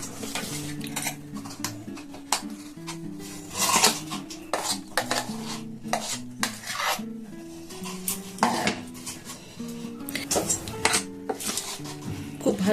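Ground dal batter being mixed in a metal bowl for idli, with repeated clinking and scraping of a spoon against the bowl and clattering knocks throughout, close and fairly busy.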